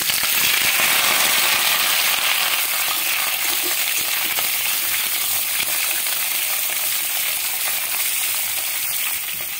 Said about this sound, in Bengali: তেলে কালো জিরে দিয়ে দিলাম, আলু দিয়ে দিচ্ছি